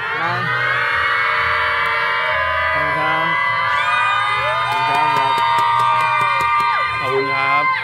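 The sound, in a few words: fans cheering loudly at a live event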